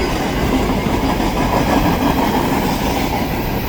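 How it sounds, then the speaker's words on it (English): Norfolk Southern freight train of gondolas, led by locomotives including an AC44C6M, rolls past near a Fostoria, Ohio mill; loud, close, continuous rumble and wheel clatter with no talking. "Here comes, I believe, 55M or 55G heading into the Fostoria mill"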